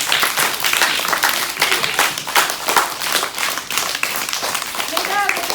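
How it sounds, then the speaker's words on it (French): An audience at a live show claps and applauds loudly and continuously, a dense, close patter of many hands that holds steady for several seconds. "Mesdames, Mesdemoiselles, Messieurs, je vous demande d'applaudir très fort"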